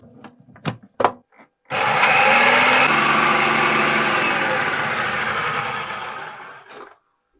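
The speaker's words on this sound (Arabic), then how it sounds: "التومات النص راح افضيهم بالمكسر" After a few knocks and clacks, an electric mixer whirs loudly and steadily for about five seconds while blending garlic cloves and egg white for homemade mayonnaise, then stops abruptly.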